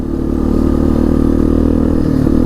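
A 1998 Yamaha Big Bear 350 4x4 ATV runs in fifth gear, its engine droning loud and close at a steady pitch with a constant low rumble and slight mechanical rattle.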